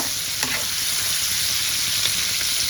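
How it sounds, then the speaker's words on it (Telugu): Mutton liver fries with turmeric in hot oil, a steady loud sizzle with a couple of brief stirring scrapes against the pan, no voices. "ఆయిల్లో బాగా వేయించుకోవాలి"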